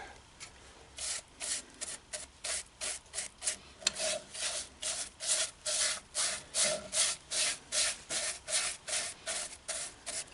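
Rhythmic rubbing strokes as a finish coat is worked by hand onto a turned redbud wood bowl, a steady series of close, even swishes with no talking.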